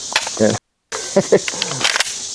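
An Uzi submachine gun fires full auto at a fake 2-liter bottle, a rapid string of sharp cracks broken by a brief silent gap. Voices are heard around the shots.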